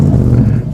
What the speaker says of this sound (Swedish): vrider om tändnyckeln och låter motorn brumma i finkvarteren